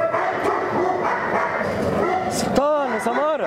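Nutella, a baladi dog on a farm, barks and whines in short bursts, the loudest near the end, under ongoing talk from people nearby.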